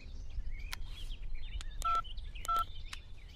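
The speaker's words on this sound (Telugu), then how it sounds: "నేను ఫోన్ చేస్తాను." A telephone keypad being dialed gives a string of short electronic tones, some paired in quick succession, with faint chirping in the background and no talking.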